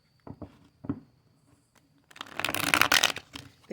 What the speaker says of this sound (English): A quick little shuffle.